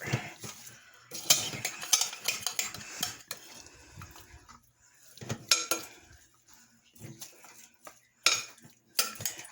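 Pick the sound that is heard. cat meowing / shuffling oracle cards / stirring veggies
stirring veggies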